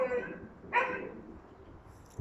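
A single short dog bark rings out nearby amid quiet street background noise, with a faint thump at the end.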